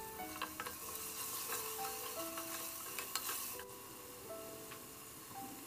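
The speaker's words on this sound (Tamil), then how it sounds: "அப்புறம் இஞ்சி பூண்டு விழுது போட்டு அந்த பச்சை வாசம் போகிற அளவுக்கு நல்லா வதக்குங்க." Onion with ginger garlic paste sautéing in a pan for chicken kurma: a steady, faint sizzle with light scraping and stirring strokes, no talk.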